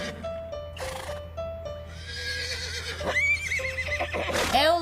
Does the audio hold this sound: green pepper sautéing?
no